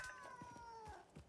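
A creature in the video game Satisfactory gives a faint, cat-like meowing wail that slides downward in pitch, broken by a few soft thumps.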